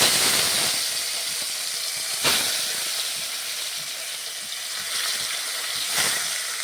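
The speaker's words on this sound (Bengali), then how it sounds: "তেলটা গরম হয়ে গেছে, এরপর আমি মাছগুলো ভেজে নেব।" Fish, rohu, frying in hot oil in a home kitchen: a steady broadband hiss and crackle of spattering oil runs throughout, with a couple of sharper sizzling bursts, close and alone without talk.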